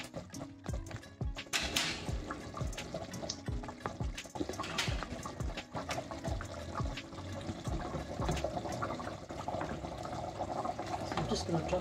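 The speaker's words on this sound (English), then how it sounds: "I'm actually going to add in the broad beans. I'm going to drop it in now." Broad beans drop into a pot of simmering potato curry, making irregular splashes, plops and wet clatters, with bubbling liquid and kitchen handling sounds close by.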